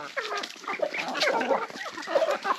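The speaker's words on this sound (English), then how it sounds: "here are all my teenage ducks" Six teenage ducks, two drakes and four hens, giving short busy quacks and chattering calls close by, overlapping in an uneven stream with no talking.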